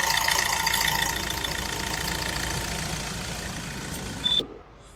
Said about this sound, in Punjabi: ਹੁਣ ਗੱਡੀ ਦੀ ਪਹਿਲਾਂ ਇੰਜਨ ਦੀ ਕੰਡੀਸ਼ਨ ਤੇ ਆਵਾਜ਼ ਸੁਣੋ